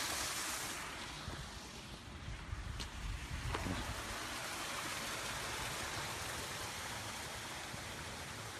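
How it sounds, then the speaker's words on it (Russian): Steady rushing water of a garden waterfall at a house near Moscow pours continuously, a broad hiss of flowing cascade close by with no voices. "Так, водопад мой какой."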